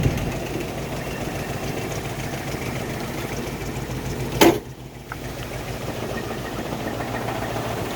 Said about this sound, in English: Engine may have just a little bit of a shake to it.